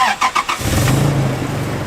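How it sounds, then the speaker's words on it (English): A Toyota Tacoma truck engine, freshly tuned, cranks with a few quick starter whirs and then catches, settling into a loud, steady idle close by. "We'll give her fire up, see, make sure it starts."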